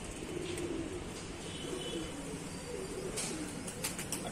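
Soft, low pigeon coos repeat over a steady hiss of outdoor background noise during a pigeon round tournament in Allahabad, faint and somewhat distant, with no talking.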